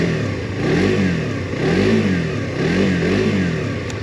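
A Suzuki GSX-R 125cc sports bike with its standard exhaust revs up and down repeatedly, with a close, loud engine note rising and falling in waves and no talking.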